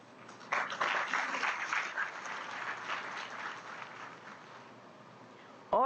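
An audience claps at a Rohilkhand University convocation in Bareilly, the applause breaking out suddenly, dense and sustained, then slowly thinning out toward the end.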